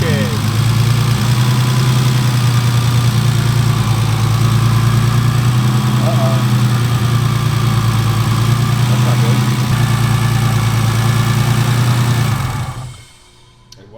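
Turbocharged BMW E36 engine at its first start-up, idling steadily with a deep, loud, even rumble for about twelve seconds before shutting off, with occasional faint voices in the background.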